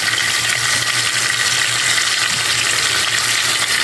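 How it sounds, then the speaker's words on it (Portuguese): Food frying in a home kitchen pan, a loud, dense and even sizzle that holds steady and close for the whole stretch, with no talking over it. "Agora eu vou deixar fritar aqui"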